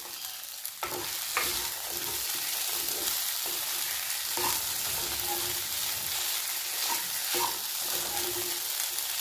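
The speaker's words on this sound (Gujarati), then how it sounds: "હવે આપણે જે સાબુદાણાને પલાળીને રાખ્યા છે તે આપણે એડ કરી દઈશું તો આપણે સરસ મિક્સ કરી લઈશું સારી રીતે" Soaked sabudana (sago) khichdi stirred in a hot pan, with a steady sizzle of frying under repeated scraping strokes of a spoon against the pan, close and continuous throughout.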